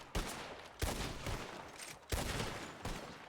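Video game gunfire rattles in four separate bursts of rapid shots, each starting with a sharp crack and trailing off, moderately loud and with no talking.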